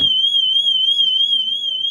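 A motorhome security alarm sounds a loud, piercing, continuous electronic tone that holds steady for a two-second blast, close by and alone.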